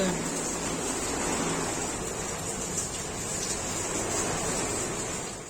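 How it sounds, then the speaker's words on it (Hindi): Heavy rain with hail and gusting wind pours over an open courtyard while water gushes through a pipe, a dense, loud, continuous roar that never lets up. "देखो पूरा चौक में बारिश का पानी, ओले भी आंधी भी, कितना तेज पानी आने लग रहा है यहाँ पाइप में"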